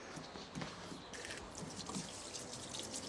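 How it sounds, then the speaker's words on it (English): A kitchen knife is rinsed under running water, giving a faint trickle and dripping with light splashes, quiet and close, with no one talking. "I need to wash my knife here, don't I?"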